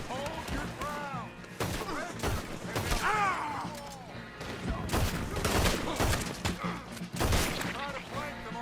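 Repeated gunshots crack in rapid, irregular bursts during a Red Dead Redemption 2 video game shootout, loud and close, mixed with shouting voices throughout.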